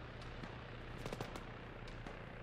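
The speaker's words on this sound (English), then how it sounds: "They just shot me." Gunfire in an Arma military game rattles at a distance, faint scattered shots and short bursts over a steady low rumble of background noise.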